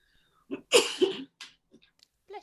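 A single sharp human sneeze indoors, with a quick inhale just before it and a few soft breaths and small noises after.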